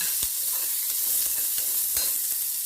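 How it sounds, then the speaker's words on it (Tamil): Shallots and big onions sauté together in a pan, a steady close hiss of frying broken by a few sharp scrapes of a spoon stirring them, with no voices. "2த்தையும் போட்டு நல்லா வதக்கணும்."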